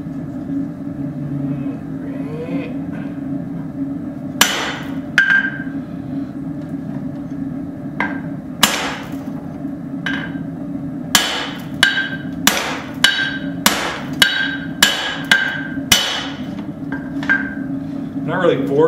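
A hammer strikes hot steel while a hatchet is forged, setting its shoulder, under a steady low hum. There are a few scattered blows at first, then a quick run of sharp ringing strikes near the end.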